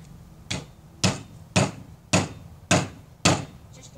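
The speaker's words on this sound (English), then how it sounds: "take your convenient axe type thing and use the backside." Six evenly spaced heavy thuds as the back of an axe hammers something down, each a sharp close impact with a short ringing decay, roughly half a second apart with no speech.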